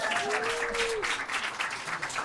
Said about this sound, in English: Clap it up if you have immigrant parents.